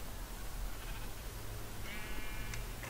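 Sheep bleat in the Minecraft video game, a faint, short, wavering cry near the end, heard over a loud, rumbling background of game noise.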